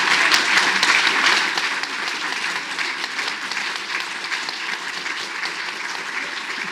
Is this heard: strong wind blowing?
no